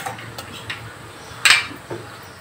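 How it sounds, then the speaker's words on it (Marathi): Raw prawns dropped into a bowl while preparing masala prawns, heard as a few soft clinks and taps against the bowl with one brighter clatter near the middle, close and alone without speech. "मी एक बाऊल घेतला आहे, त्याच्यामध्ये ह्या कोळंब्या टाकत आहे"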